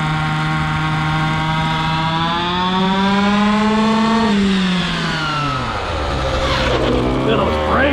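A 1:5 scale RC car engine revs hard and winds out, its pitch climbing and then falling in a loud, near continuous drone while a voice speaks over it.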